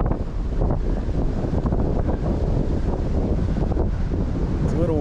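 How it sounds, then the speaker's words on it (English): Strong gusting wind on the summit of Ben Nevis buffets the microphone continuously, a loud rumbling roar with no other clear sounds standing out. "It's a little windy, overcast, but it's actually quite warm."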